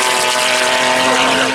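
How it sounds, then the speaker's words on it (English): A raucous BMW 3-litre M Sport rally car engine roaring steadily at a road rally, a loud sustained buzzing drone with strong harmonics, close and continuous. "a raucous BMW 3-litre M Sport car"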